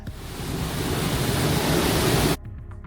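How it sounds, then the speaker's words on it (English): Giessbach Falls heard from the path behind the waterfall, a dense, loud, steady roar of falling water that cuts off abruptly near the end. "you can walk behind the waterfall"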